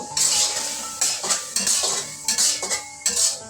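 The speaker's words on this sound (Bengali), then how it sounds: "আর একটু নেড়ে চেড়ে নিব" Noodles stirred in a metal cooking pot, a spoon scraping and clinking against the sides in repeated bursts, close and fairly loud with short pauses between strokes.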